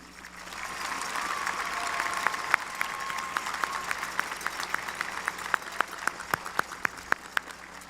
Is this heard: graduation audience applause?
yes